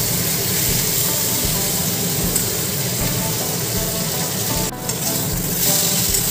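Turmeric and spices frying in a pan for dal, a steady loud sizzle with occasional stirring scrapes and a brief burst of steam near the end, no talk.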